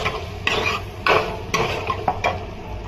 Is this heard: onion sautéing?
yes